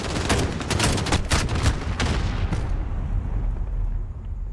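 Rapid bursts of gunfire ring out in Call of Duty Modern Warfare 2019 on realistic difficulty, loud and dense with booming low end. They taper off into quieter rumble over the last second or two.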